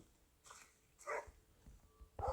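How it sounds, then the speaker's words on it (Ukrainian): A dog in the video game SchoolBoy Runaway gives three short barks spaced apart, fairly faint over a quiet background. "Не гавкай, не гавкай, бо ще увагу привернеш."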